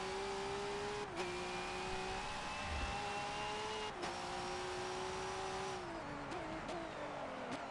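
V8 Supercar racing engine at Bathurst in Forza Motorsport 7, a steady high-revving drone broken by several gear changes and a falling pitch near the end.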